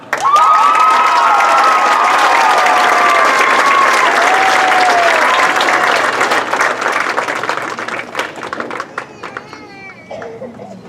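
An audience at a band night cheers and applauds a band front spirit award recipient, loud dense clapping with whoops and children's shouts that taper off toward the end.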